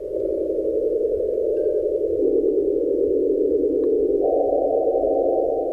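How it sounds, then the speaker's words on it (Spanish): Sonified vibrations of three stars observed by the CoRoT satellite come through as a continuous, steady humming tone. It shifts pitch twice, giving three distinct held segments in a row, with no speech. "Aquí tenemos el canto de 3 estrellas observadas por Corot."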